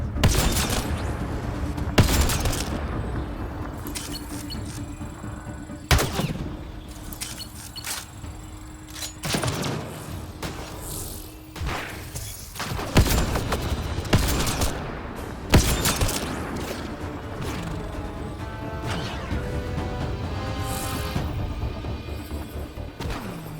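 Firefight in the video game Mass Effect Andromeda, with bursts of gunfire, sharp single shots and heavy thuds and crashes, loud and close, spread irregularly across the clip with quieter gaps between volleys.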